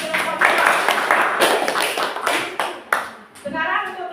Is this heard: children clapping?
yes